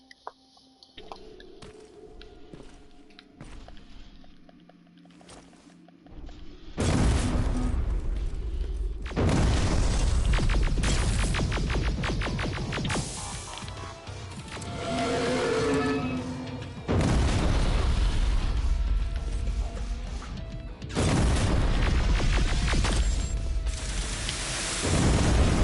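Repeated loud, booming cannon grenade blasts in the game Terminator Resistance, each a sustained burst of crunching noise separated by brief lulls, with no talking.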